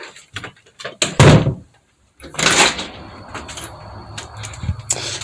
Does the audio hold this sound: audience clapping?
no